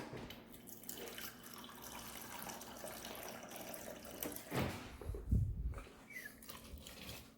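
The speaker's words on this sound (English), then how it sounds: "I'll just add a little more water." Water runs and splashes softly into a container, a quiet trickle with a brief louder gush near the end.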